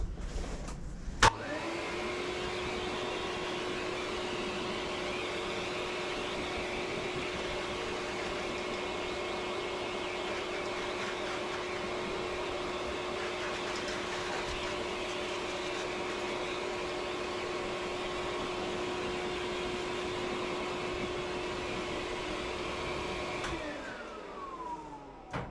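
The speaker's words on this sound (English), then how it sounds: "I am just going to blow dry him again and fluff all that hair up" Hair dryer blowing a purebred toy poodle's coat during grooming, a steady loud whirring hum running unbroken for more than twenty seconds before cutting off near the end.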